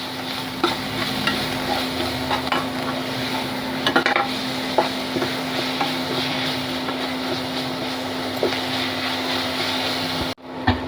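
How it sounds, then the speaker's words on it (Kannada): Dal fry stirred in a pan so the salt mixes in, a steady low sizzle and soft scraping strokes under a constant hum, close and without talk, ending with a brief dropout. "ಉಪ್ಪೆಲ್ಲ ಮಿಕ್ಸ್ ಆಗಲಿ."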